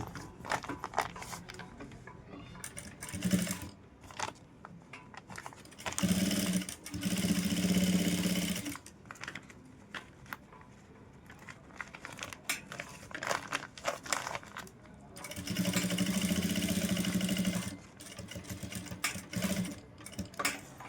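Sewing machine stitching a purse made from saree blouse fabric: short whirring runs of rapid needle stitching start and stop, separated by quieter stretches of fabric handling and rustling.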